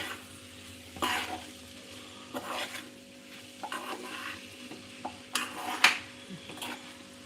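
Puliyogare rice is stirred and tossed in a pan over a low flame, with soft scraping, intermittent clinks of a spatula against metal and a faint sizzle, close and fairly quiet with no talking.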